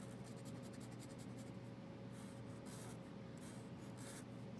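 A pen or pencil colors in drawn piano keys on paper, giving a soft, continuous scratching and rubbing that stays faint and steady throughout, with no voices.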